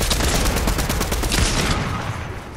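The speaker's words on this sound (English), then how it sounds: "Oh god, he sniped me." Gunfire in the Fortnite video game, a loud burst of rapid overlapping shots up close that fades into a decaying rumble near the end.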